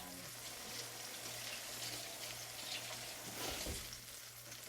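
Food sizzles and fries in a pan, a continuous crackling hiss with a low steady hum beneath, faint and unbroken, with no one talking.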